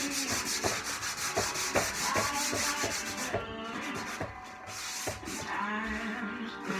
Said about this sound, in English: And then sand this out.